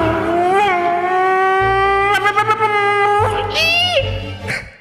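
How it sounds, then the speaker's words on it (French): A car brake sound effect: a drawn-out tonal squeal that wavers and bends in pitch like a moo, then rises sharply and repeats, loud and close, with a low rumble underneath. "je sais que c'est difficile à croire, mais c'était un bruit de frein"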